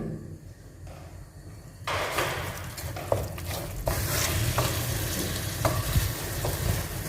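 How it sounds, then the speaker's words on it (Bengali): Noodles being stirred with masala spices in a pan, a steady scraping and sizzling that swells after about two seconds and keeps going with scattered clinks, no talking. "মশলা অ্যাড করার পর একটু নেড়ে নেবেন।"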